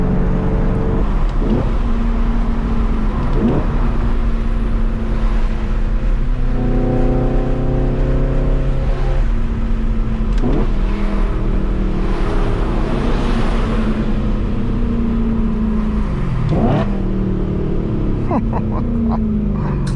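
A BMW E92 M3 with its V8 engine, heard loud and steady from inside while driving, rising and falling through the rev range with repeated climbs and dips in pitch and a constant road rumble beneath.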